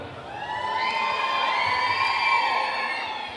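An audience at the final of a singing contest cheers and shouts in a loud, sustained roar that holds steady throughout with no clear speech.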